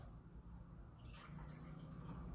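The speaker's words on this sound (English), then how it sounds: "You want to put 8 cups of water." Water pours steadily into a container for cold brew coffee, a continuous splashing rush that grows fuller and louder partway through, with no voices.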